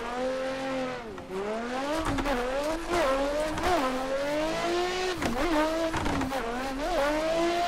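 Nissan S15 drift car in a video game, its engine sustained and loud with repeated revs rising and dipping as it slides, tire squeal woven through continuously.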